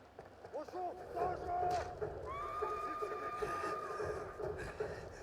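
A horse in a video game on lethal difficulty whinnies in a rising, wavering call over busy game noise and background effects, heard moderately close with a sustained tonal neigh in the middle.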